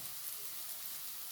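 Garlic and ginger paste frying in hot oil for fish balls, giving a steady, dense, even sizzle that holds at a soft level without breaks.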